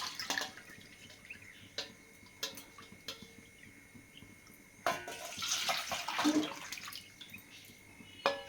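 Water is poured into rice flour in a bowl to make a batter for rice-flour vadiyalu. Faint, intermittent trickling and splashing is heard close by, with a stronger pour near the end.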